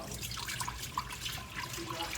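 Milk pouring and dripping for homemade yogurt, a faint continuous liquid trickle with scattered small drips and splashes, quiet and close in a kitchen.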